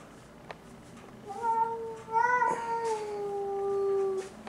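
A cat meows in a garage-type workshop: one drawn-out, rising-then-falling cry, close and clear against quiet background noise.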